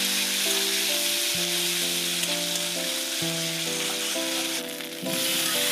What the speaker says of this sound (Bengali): আদা জিরে বাটাটাও ভেজে নেব